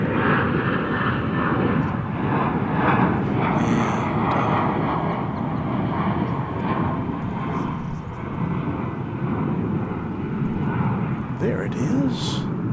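Airbus airliner on Seattle flight at DFW Airport, a continuous broad jet roar heard from a distance for the whole stretch, with faint voices murmuring beneath it.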